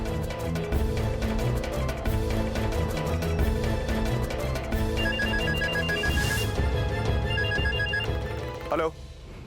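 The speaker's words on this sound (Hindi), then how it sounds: "फोन उठाइए" A telephone rings in repeated bursts of bright electronic bell tones, loud and close, with indoor background sounds under it and a short clatter at the end as it stops.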